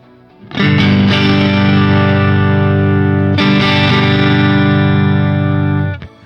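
Heavily distorted electric guitar chords through a Neural DSP Quad Cortex modelling a Solo 100 amp and Orange cabinet ring out loud and sustained, struck once, then restruck about three seconds later, before cutting off abruptly.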